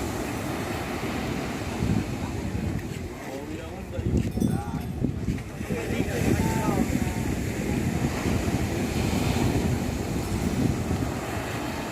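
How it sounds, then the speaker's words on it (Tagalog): Strong ocean surf with a strong current at Pundakit, San Antonio, rumbles and crashes beneath gusty wind noise on the microphone, with a few faint voices in the background. "Grabe alon."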